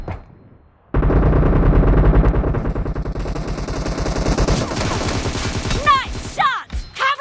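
Sustained bursts of automatic assault rifle fire from both sides of a video game match, loud and dense, rattling continuously with overlapping shots and a few game voice callouts near the end.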